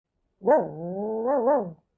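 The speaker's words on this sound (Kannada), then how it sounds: "ನಮ್ಮ ಮನೆಗೆ ನಾಯಿ ಬಂತು." A single long, wavering dog vocalization, somewhere between a drawn-out bark and a howl, rising and falling in pitch, clear and alone in silence.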